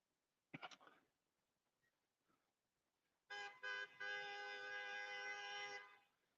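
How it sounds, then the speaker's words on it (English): A car horn honks on a street at the Pacific Coast in Huntington Beach, one short blip followed by two quick toots and a long sustained blast, moderately close over quiet traffic. "I don't know what he's blowing his horn for."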